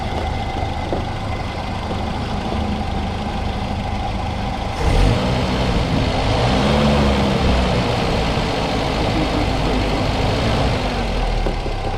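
Land Rover Series 2A engine idling steadily, then revved up from idle around midway, the deeper engine note rising and holding louder to the end with no talk.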